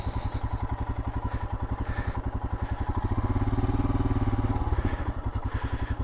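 A Royal Enfield Himalayan motorcycle idling and chugging with a steady, rhythmic low thump as it is walked slowly down a steep trail, engine close and constant with a slight swell midway.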